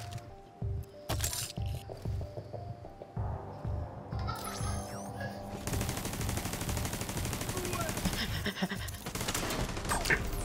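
Automated turret in The Division 2 firing in sustained rapid bursts, sparse at first, then a continuous loud stream of shots in the second half, with other game effects around it.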